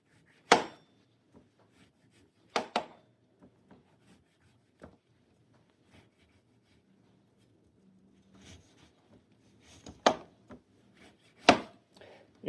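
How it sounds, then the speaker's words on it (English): A knife cuts through an orange and a lemon on a board, giving a few sharp isolated chops and thuds separated by quiet gaps with faint rubbing between them. "Go ahead and cut that up, peel it."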